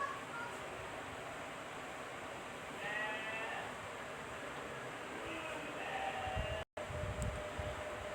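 A goat bleats a few times over steady outdoor background noise, short wavering calls spaced apart with a brief dropout near the end.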